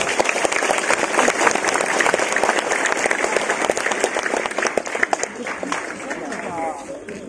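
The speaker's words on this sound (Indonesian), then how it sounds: "Tepuk tangan untuk anak-anak semangat." School students applaud together in a large group, sustained dense clapping with a few louder individual claps standing out near the end.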